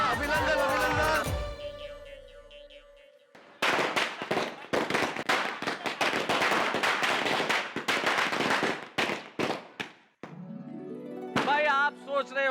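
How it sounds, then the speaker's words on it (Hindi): Firecrackers set off at a festive housing-society celebration, a rapid, dense string of sharp loud cracks and pops for several seconds, bracketed by music and voices before and after. "बिना दिवाली के पटाखे क्यों छोड़ रहे?"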